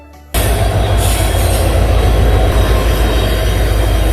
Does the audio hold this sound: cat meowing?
no